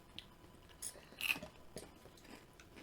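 Lemonhead-style hard candy is chewed and crunched close to the mic, giving a few soft, irregular bites and crunches over a quiet background.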